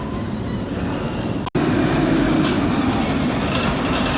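Night ride on Kraken Unleashed, a B&M roller coaster at SeaWorld Orlando: a loud, steady roar of rushing wind and track rumble, broken once by a split-second dropout.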